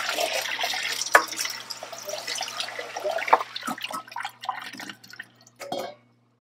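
A bowl is rinsed under running water in a print studio sink, with splashing and trickling, a few sharp knocks against the basin, then the flow thins to drips before stopping.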